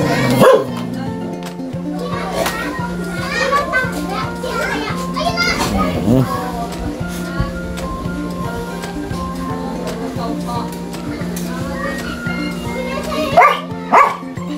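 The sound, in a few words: pet dog barking and making noise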